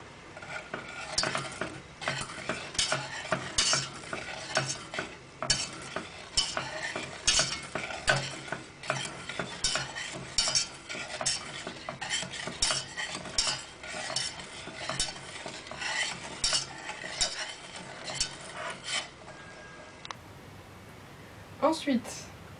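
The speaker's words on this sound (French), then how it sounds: "Et vous mélangez vos ingrédients pour que ça fasse un mélange homogène." Nutella and Ovomaltine cake batter stirred in a bowl, repeated close scraping and clinking strokes of a utensil against the dish in a steady rhythm for over twenty seconds, fading at the end.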